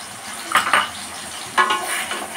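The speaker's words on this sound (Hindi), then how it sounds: "अब इसमें हम प्याज के पेस्ट डालेंगे और ये टमाटर का पेस्ट है" Onion paste and tomato paste sizzle in a hot pan as they are stirred, with two bursts of scraping and frying around the middle and again later over a steady low hiss, close by.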